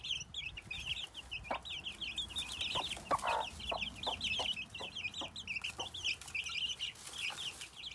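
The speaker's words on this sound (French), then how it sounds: "Ce sont des poules qui étaient beaucoup plus peureuses avant, qui ont pris beaucoup d'assurance en fait avec leurs poussins" Hens clucking around their chicks, a steady stream of soft, overlapping clucks with bright high chick peeps throughout, close by and continuous.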